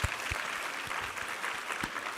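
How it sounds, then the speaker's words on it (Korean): A church congregation gives a short round of applause during a worship service, the clapping soft and somewhat distant, with a few sharper claps standing out. "우리 하나님께 감사와 영광의 박수 올려드리겠습니다"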